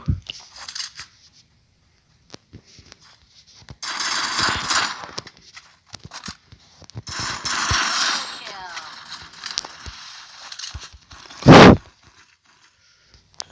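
Bursts of rapid gunfire in Free Fire crackle in short volleys, separated by quiet gaps, ending with one loud, sharp blast.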